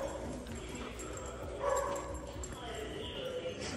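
Small dogs at a small-dog daycare bark and yip in a busy room, with a person talking throughout.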